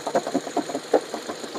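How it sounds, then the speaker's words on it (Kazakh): A Hyundai Solaris car engine idles with a steady, rapid pulsing chug, close and moderately loud, with no talking. "Мотор ровно иштеп турат."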